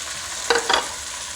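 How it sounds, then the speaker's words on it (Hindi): Boiled chickpeas dropped into a hot pan for a street-food style karhi cholay, a quiet steady hiss broken by two brief louder sizzling bursts, close by and without any talking. "अब ये जो मेरे पास छोले थे 200 ग्राम जो बॉयल करते मैं ये इसमें शामिल कर दूँगी"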